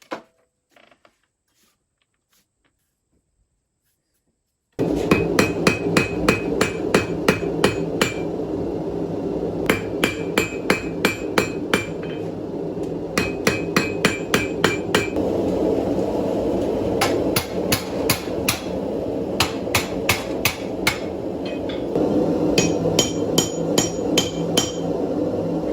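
Hammer blows forging the guard of a main gauche parrying dagger, sharp metallic strikes in rapid rhythmic bursts with short pauses between runs, loud and close after a few seconds of silence.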